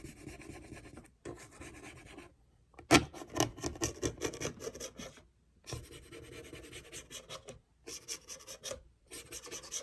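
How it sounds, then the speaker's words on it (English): A small plastic bread clip scrapes grime off a dirty surface in repeated rasping strokes, close and fairly quiet, broken by short pauses, with no talking. "They also help to scrape gunk off of dirty surfaces."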